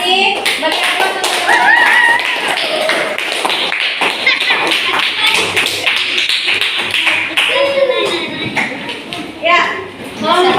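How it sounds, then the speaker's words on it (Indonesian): A classroom audience applauds for a student group at the end of its turn, dense overlapping claps sustained for several seconds, with children's voices mixed in. "Bagi aplaus untuk"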